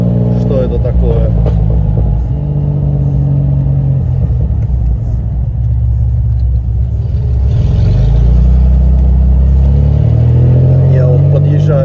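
A TVR Tasmin sports car being driven, with a steady low engine drone that swells into a louder rev toward the end, heard from inside the car.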